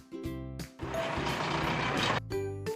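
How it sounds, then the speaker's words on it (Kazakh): A bulldozer reversing: steady electronic warning beeps sound at the start and again at the end, with a loud, rough rushing burst of machine noise in between. No one speaks. "Бульдозер"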